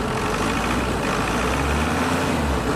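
Ford Everest diesel engine idling steadily after a restart, a loud, constant low rumble close by with no break or change across the clip and no talking.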